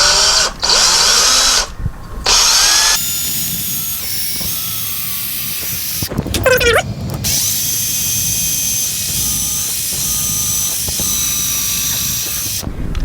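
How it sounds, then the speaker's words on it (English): A power drill pre-drills holes in old wood during a garage door opener repair, with short high whirring bursts at the start and a sharp squealing burst near the middle over a steady mechanical background hum. "We're going to pre-drill the hole right here."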